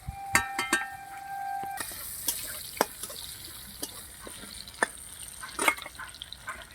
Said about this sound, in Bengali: এবার আমি ভালো করে চিংড়ি মাছটা লাল লাল করে ভেজে নিচ্ছি